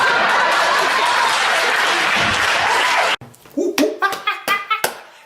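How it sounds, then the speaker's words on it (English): An audience claps in the background: a dense, loud wash of applause for about three seconds, then it cuts off and gives way to a handful of separate, sharp slaps spaced out like slow individual claps. "that's exactly how those people in the background were clapping"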